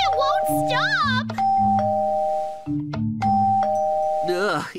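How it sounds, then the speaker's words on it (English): A doorbell in the Minecraft video game chimes twice in a row with repeated ding-dong tones, loud and close. Excited child-like voices and exclamations overlap the chimes. "It keeps ringing the doorbell! It won't stop!"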